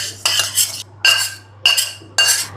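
Roasted semolina (rava) being scraped out of an iron kadhai with a metal spoon while making upma premix: four close, gritty scraping strokes separated by short pauses, with no talking.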